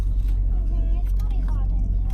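A cheap $2000 used car pulling out on a test drive, its engine a low continuous rumble throughout, with people talking over it inside the cabin.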